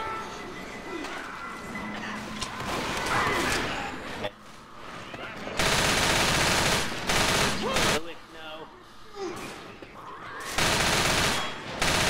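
Bursts of rapid automatic gunfire from the Left 4 Dead video game, loud and close, alternating with quieter gaps while players talk over the action.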